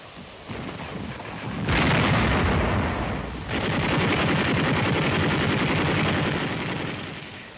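A 57mm gun fires at the Chateau de Belfort in a WWII newsreel, with loud booming blasts and a sustained rumbling roar between them.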